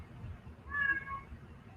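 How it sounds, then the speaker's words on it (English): A house cat lets out a single clear, drawn-out meow at moderate volume over a low background hum, close to the microphone. "my cat loves to interrupt my lives"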